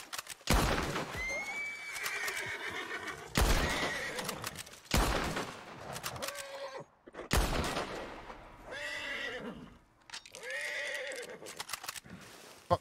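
Horses in the Red Dead Online video game on PC let out several loud, close whinnies, separated by brief gaps. Hoof clip-clops and sharp bursts that may be gunfire sound between the neighs.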